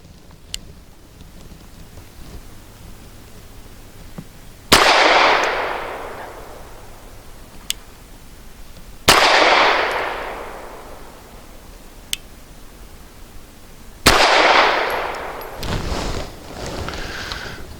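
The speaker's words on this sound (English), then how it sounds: "That was a good first shot." Three loud, sharp gunshots from a Cosaint Arms COS11 9mm 1911 pistol fired outdoors, spaced several seconds apart, each with a long echoing decay, plus a few faint clicks between.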